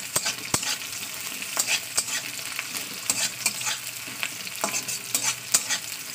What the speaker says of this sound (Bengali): আমি যেরকমভাবে শাক ভাজা করছি এইভাবে কেটে শাক ভাজা করে